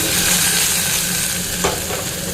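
Vegetables fry in a kadai with a steady, dense sizzle that runs throughout, with a brief scrape of stirring near the end and no voices.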